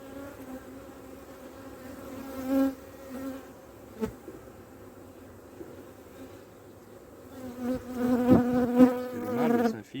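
Honeybees buzzing around opened hives during a hive visit, a low, close drone of wings with several nearer passes and a dense swell of buzzing toward the end, with a brief tap partway through.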